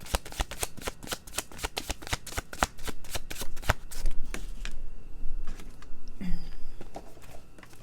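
Tarot cards riffled and shuffled by hand, a quick run of crisp close snaps that thins into softer sliding and scattered flicks, with no talking.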